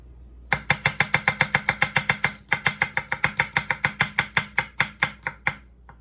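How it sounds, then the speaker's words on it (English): An Enso SG2 kiritsuke knife slices a potato into thin pieces on a cutting board, a fast, steady series of about thirty crisp, close chops that slows slightly toward the end, with no speech. "A little sticky with the starch on the potato, but as you can see, cuts right through."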